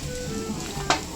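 Hotdogs frying in a pan during Filipino home cooking, a steady close sizzle with a brief clatter of a utensil near the end.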